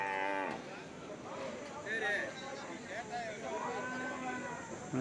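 Cattle moo at a buffalo market in Tamil Nadu, several drawn-out, nearby lowing calls rising over a busy background while a person talks throughout.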